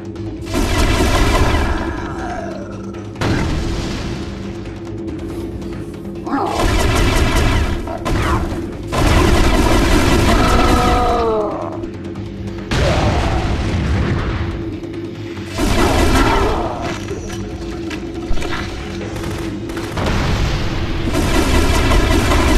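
Heavy, sustained gunfire and booming blasts from the video game The Conduit, loud and dense in long bursts separated by brief lulls, with no voices.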